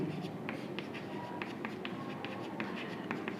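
Handwriting on a surface during a Class 12 statistics lesson, with short scratchy pen or chalk strokes in an irregular rhythm, fairly quiet and close, over a faint background hum.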